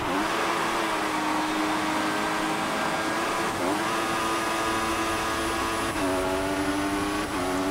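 Formula 1 cars in the F1 2014 racing game roar off the line at a race start in Italy, high engine whines rising and shifting through gears, loud and continuous with no talk.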